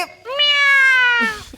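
A single loud, drawn-out cat meow close to the microphone, rising then holding steady before trailing off.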